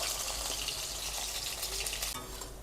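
Potatoes fry in hot oil with a steady, dense sizzle, close and continuous from start to finish, with no voices over it.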